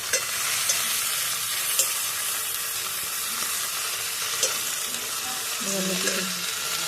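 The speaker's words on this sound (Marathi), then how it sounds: "मेथीची भाजी टाकून घेतली तिला चांगलं तेलात हे द्यायची" Washed fenugreek greens stir-fried in oil over a wood-fired chulha, giving a bright steady sizzle with a few soft stirring knocks, and a faint voice briefly heard near the end.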